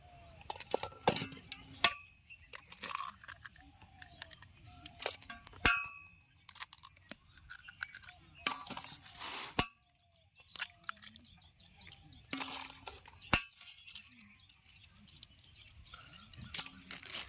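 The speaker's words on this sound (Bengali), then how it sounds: "আর সাথে দিয়ে দেবো 4খানা ডিম ফাটিয়ে" Four eggs cracked into flour batter for mixed gola roti: scattered sharp clinks and cracks against the bowl, several irregular taps separated by quiet pauses.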